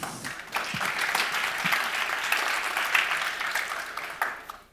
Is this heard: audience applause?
yes